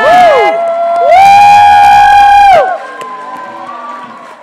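A school audience at a talent show finale cheers for the finalists with loud, sustained whoops and shouts, swelling in two bursts before dropping to a softer murmur of crowd noise.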